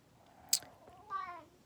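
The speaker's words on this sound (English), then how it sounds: "He's an 18-year-old cat." An 18-year-old domestic cat gives a single drawn-out meow, close and fairly quiet, preceded by a brief sharp click in an otherwise calm indoor room.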